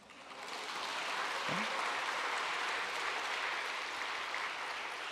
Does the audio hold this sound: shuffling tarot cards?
no